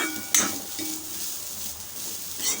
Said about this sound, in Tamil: அடுப்பை வந்து இருக்கிறதுலே லோ ஃப்ளேமில் வச்சுட்டு அப்படியே கலந்து விட்டுக்கலாம்